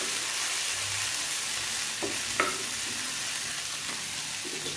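Lightly salted mackerel fish frying in a pan, a steady broadband sizzle and hiss with a couple of soft clinks of stirring partway through.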